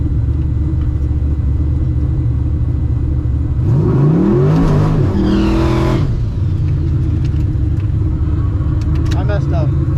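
A drag car revs hard through a burnout before a pass, a rising, sweeping engine roar in the middle over a steady in-car rumble, with people talking throughout.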